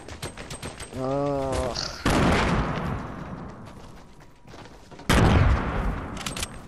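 Fortnite gunfire during a sniper shootout: two loud, sharp bursts of shots, separated by a few seconds, with a brief groan from a player before the first.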